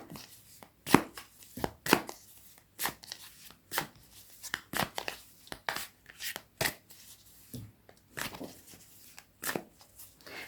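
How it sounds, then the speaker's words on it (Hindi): Tarot deck being shuffled by hand indoors, a steady series of crisp riffling and tapping bursts about twice per second, close and fairly loud, with no talking. "Now let's shuffle the rest of the cards."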